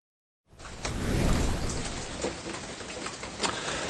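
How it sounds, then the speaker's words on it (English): Steady rain falls on a surface after a brief silence, a dense loud hiss with scattered drop impacts and no talk. "the rain we're getting around the region, we can sure use it"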